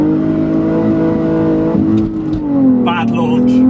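A BMW Z4 sits idling with a steady engine drone, then launches from a stop as the revs climb and pull away loudly, with a voice speaking over the engine.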